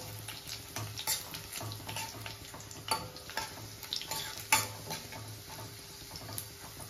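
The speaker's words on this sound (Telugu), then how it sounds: "కొంచెం ఫ్రై అయిన తర్వాత టమాటా వేసుకున్నాం." Tomatoes fry in a pan, a soft, close sizzle broken by irregular ticks and clinks as the pan is stirred, over a faint steady hum.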